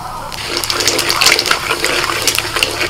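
Whole bay leaves, cardamom, cinnamon, cloves and cumin seeds sizzle loudly in hot oil for tempering, a steady bright crackling hiss that fills the clip without pause.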